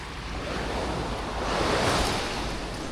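Calm sea on a boat outing, steady soft wash of waves with wind noise, a gentle swell of surf rising near the middle and easing off.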